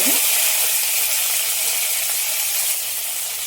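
Cumin seeds and curry leaves hitting hot oil for tempering, giving a steady broadband sizzle with a brief sharper burst at the start, close and moderately loud, gradually settling over a few seconds, no talk.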